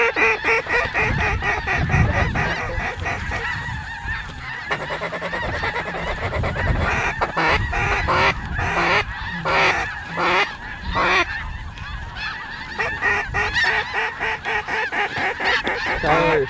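A large flock of snow geese honks continuously during a South Dakota goose hunt, a dense, loud chorus of overlapping calls that rises and falls throughout without a break.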